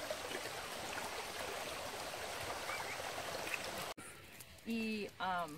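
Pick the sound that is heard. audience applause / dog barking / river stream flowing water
river stream flowing water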